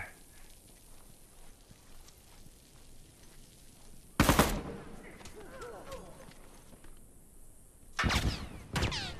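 Pump-action shotgun blasts in The Last of Us multiplayer, with two or three loud, close booms separated by seconds of quieter game ambience and someone talking.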